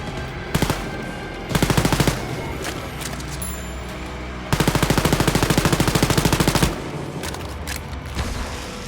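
Submachine gun fire in the shooter Wolfenstein Youngblood: three loud sustained automatic bursts with rapid even shot rhythm, a short one near the start, a longer one around a second in, and a long burst mid-clip, with quieter game ambience between.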